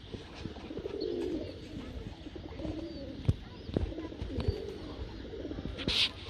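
Pigeons coo in a pigeon loft, soft repeated rolling coos close by over a steady background of rustling and faint chirps, with no one talking.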